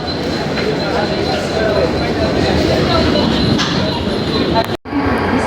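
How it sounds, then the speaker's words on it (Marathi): A Mumbai suburban commuter train bound for Andheri rumbles steadily at Nalasopara station with a faint high whine above the noise, then a brief cut before the roar continues. "ट्रेन आली बघा पाच सहाची अंधेरी ट्रेन आहे"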